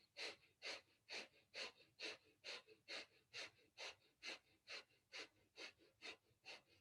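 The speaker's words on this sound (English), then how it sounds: "you can come into breath of fire, panting like a dog through the nose" Rapid breath-of-fire panting through the nose during a Kundalini yoga class: about fifteen quick, evenly spaced breathy puffs in under seven seconds, steady and close with no talking.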